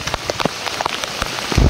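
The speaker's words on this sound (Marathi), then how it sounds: "आला आला जोरात आला पाऊस" Heavy rain pours down on a farm field right after ploughing, a dense steady patter with scattered louder drops striking close by and a heavier burst near the end.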